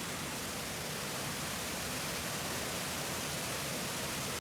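A waterfall of brown water in Estonia pours in a steady, dense, loud hiss that holds unbroken throughout, with no voices.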